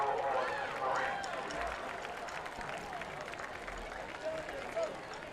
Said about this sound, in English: So there is a good crowd here tonight